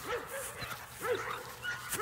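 A dog doing protection work gives short, strained vocalizations, yips and whimpery barks in a quick rhythm, close by and fairly loud.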